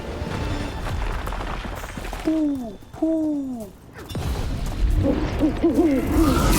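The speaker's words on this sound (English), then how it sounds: "Another owl." An owl in Dragon Age: The Veilguard gives two clear, falling hoots in quick succession over ambient game background, followed by a warbling call near the end.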